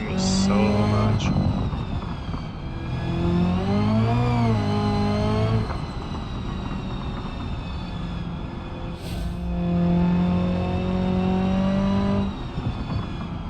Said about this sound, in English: Drifting this section of the track is really fun.